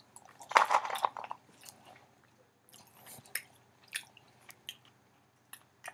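Cashews being chewed up close, with a burst of moist, crunchy mastication followed by softer, intermittent chewing and squishing sounds over near silence.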